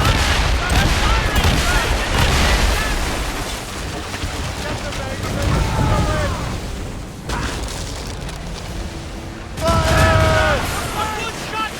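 Musket volleys in Assassin's Creed Rogue during a naval ambush, loud booming shots and rolling fusillades repeating across the scene, mixed with shouted commands and game voices.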